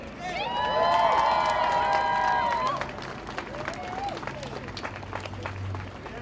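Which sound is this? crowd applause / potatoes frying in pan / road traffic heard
crowd applause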